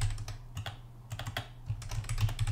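Rapid, uneven clatter of keys on a computer keyboard, close and fairly quiet, in short bursts with brief pauses and no voices.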